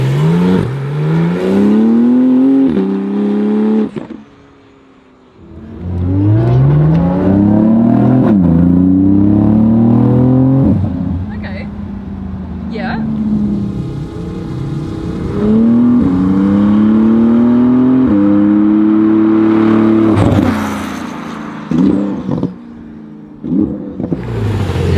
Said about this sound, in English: We've just opened the exhaust here. First time I'm driving a GT2 RS